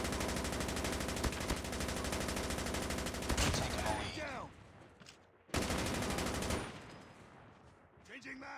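Rapid bursts of gunfire from a Tamil-language online shooter game, dense automatic fire for about four seconds, a pause, then another loud burst, with faint game effects between.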